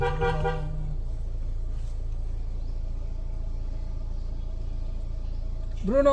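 A car horn gives a short toot at the start and again near the end, separated by a steady low rumble of a vehicle, and a voice briefly calls out.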